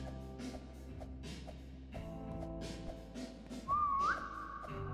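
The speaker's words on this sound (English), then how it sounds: "Did you hear a whistle?" A person whistles over Roblox SCP 3008 game voice chat, a single short rising whistle note near the end over a steady low hum of game sound.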